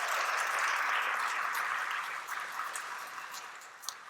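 Audience applause at a 2019 nonprofit workplace conference, a steady dense clapping from a crowd that fades slightly toward the end, with no talking over it.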